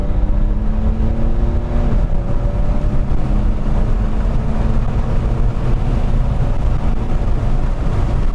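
A tuned BMW 335d diesel at stage 2+ with 400 hp accelerates hard, heard from inside as a loud, steady engine roar whose tones climb, dip at a gear change, then climb again over constant road noise.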